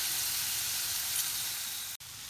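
Chicken pieces with half a lemon squeezed in sizzle steadily in a hot pan, a bright continuous hiss with low stirring rumble, briefly cut off near the end before resuming.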